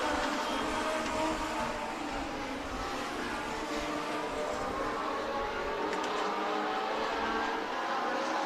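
Race cars lapping a speedway oval during a heat race, their engines a continuous loud roar heard from a distance, blending together with no voices.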